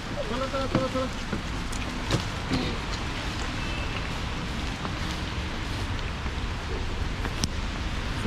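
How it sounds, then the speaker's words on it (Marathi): Heavy rain falls in a sudden downpour in China near a waiting car, making a dense, steady wash of noise with a few scattered knocks and faint voices beneath it. "पाऊस सुरू आहे"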